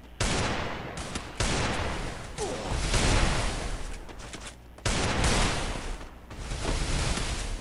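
Free Fire video game gunfire: dense bursts of automatic shots repeat in loud sections, with short breaks between bursts and no speech.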